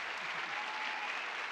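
Studio audience applause on a Colombian talk show, a steady, even roar of many hands clapping at a moderate distance, with no talking over it.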